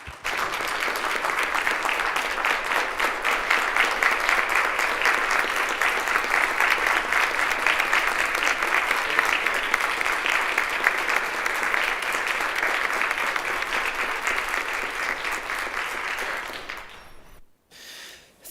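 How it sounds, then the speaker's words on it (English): Members in a state assembly chamber give a long round of applause during a floor session, dense sustained clapping that swells quickly, holds steady and then dies away abruptly, leaving brief quiet and faint room noise at the end. "offer them a round of applause"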